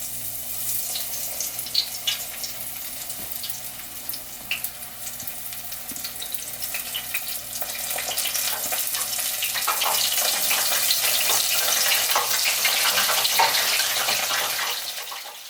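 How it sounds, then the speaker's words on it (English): Beer-battered onion rings deep frying in hot oil give a steady, dense hiss and crackle that swells louder midway and holds as a continuous wash, with no voices. "paying special attention to the glorious sound carpet that is deep frying"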